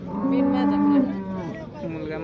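A cow at a cattle market lets out a long, loud moo close by, followed by a shorter second low call.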